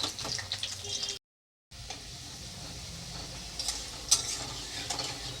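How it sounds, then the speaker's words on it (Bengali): Potatoes frying in a small amount of hot oil for mutton curry, a close, continuous bright sizzle with clinks and stirring scrapes, interrupted by a brief silent cut. "তেলের মধ্যে আমি আলুগুলো দিয়ে দিলাম আর তেলের পরিমাণটা একটু কম দিয়েছি"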